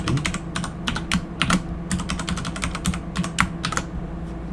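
Keys clack on a computer keyboard as a password is typed at a Windows 10 login, a quick irregular run of crisp close taps over a low steady hum.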